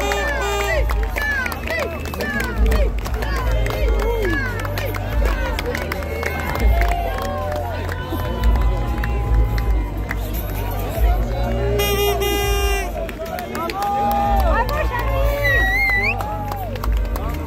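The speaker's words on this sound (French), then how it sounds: "Vous pouvez faire du bruit, vous pouvez l'applaudir." A large crowd at a Vendée Globe sailing trophy celebration, babbling and cheering with scattered clapping, a busy, continuous roar of voices under an amplified announcer talking throughout.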